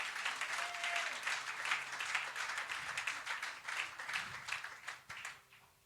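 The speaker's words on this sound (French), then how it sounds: "Est-ce qu'on peut acclamer très fort notre Dieu?" A church congregation applauds and cheers loudly for God, with dense, sustained clapping that fills the room for several seconds before tapering off at the end.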